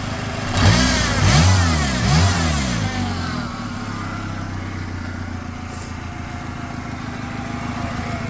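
Peugeot 206 petrol engine, 1.1 or 1.4 litre, running after a new crank sensor was fitted: it revs up sharply twice in quick succession, then falls back to an uneven, lumpy idle that carries on steadily to the end. No one speaks.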